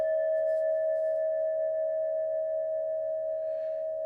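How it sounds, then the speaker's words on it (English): Several singing bowls ringing together in a layered drone, steady pure tones with stacked high harmonics that hum on evenly and slowly fade, with faint rustling touches and no voice. "when you put together multiple bowls, you are layering on"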